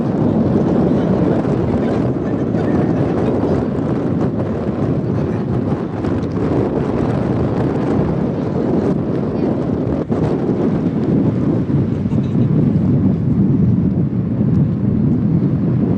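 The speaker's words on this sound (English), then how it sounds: "It's a lot windier on this side. Might be an updraft." Strong wind buffets the microphone on a steep, northeast-facing cliffside of a mountain hiking trail near Phoenix, Arizona, a loud, continuous rushing roar with gusty flutter throughout and no talking.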